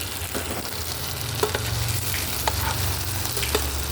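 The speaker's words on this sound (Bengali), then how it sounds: "আলু আর টমেটো, ঢেঁড়স দিয়ে ভালো করে এখন ভেজে নেবো" Potato, tomato and okra frying in a pan over onion tempering, with a steady broadband sizzle and scattered stirring scrapes and clicks, close and continuous with no talk.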